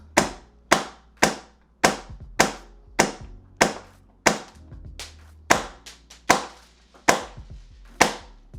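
An MTW airsoft rifle fitted with a BLINC Bluetooth FCU fires about fourteen sharp, close single shots, each a crisp snap with a short decay, spaced roughly every half second in a steady semi-auto rhythm.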